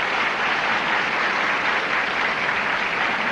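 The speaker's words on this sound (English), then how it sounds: "Rather weak applause, I would say." Game show studio audience gives a steady, moderate round of clapping that holds evenly for a few seconds with no speech over it.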